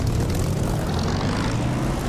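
A propeller aircraft engine in the DCS flight simulator throttling up for takeoff, a loud, dense, steady roar with buzzing propeller drone held close throughout the short stretch.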